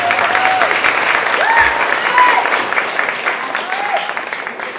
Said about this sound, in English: Zawedi deserves another round of applause.